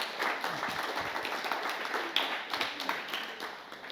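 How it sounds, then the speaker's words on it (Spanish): An audience claps for a guest speaker before a talk on empathy, a fairly close burst of hand clapping that swells and then tapers over a few seconds, with faint voices underneath. "un fuerte aplauso, por favor, para él"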